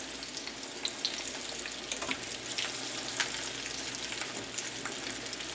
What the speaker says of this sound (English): Takes a little while to fry, but they're really worth it in the end.